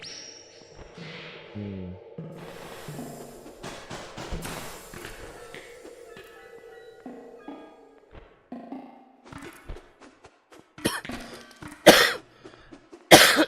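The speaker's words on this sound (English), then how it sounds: "Don't mind me coughing." A person coughs several times, close to the microphone, amid scattered soft taps and thumps. The coughs come louder and in bursts toward the end.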